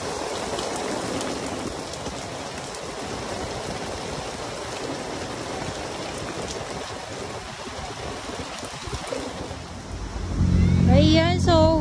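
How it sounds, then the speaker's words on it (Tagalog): Heavy rain pouring in bursts at Manila Bay: a dense, steady downpour hissing on surfaces, swelling louder near the end as a voice begins talking over it. "Bugso yung buhos ng ulan, lalakas, tapos hihinto, tapos uulan ulit."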